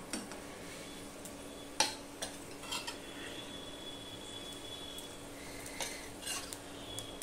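Marinated hilsa fish pieces, coated in salt, turmeric and mustard oil, go into a pan one at a time, giving scattered soft clinks and thuds over a faint, low oily sizzle, with no talking.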